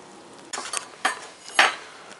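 Chicken pot pie filling with mushrooms, peas, carrots and celery stirred in a pan, three distinct scraping strokes of a utensil over a soft background sizzle, close and fairly loud, no talk.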